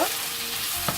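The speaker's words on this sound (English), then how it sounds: "Give it a nice stir." Onions and tomatoes frying in a pan while being stirred: a brief, loud, continuous sizzle up close, with a small spoon knock near the end.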